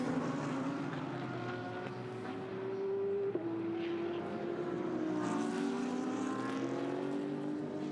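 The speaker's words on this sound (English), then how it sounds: "A phenomenal rate of acceleration in the Audi, up to 138, 150, 160, 70, 80 kilometers per hour" An Audi GT race car in the ADAC GT Masters 2016 at the Hockenheimring accelerates hard out of a hairpin. Its engine note rises steadily and loudly through the gears, with a brief upshift blip partway through and a continuous drone beneath.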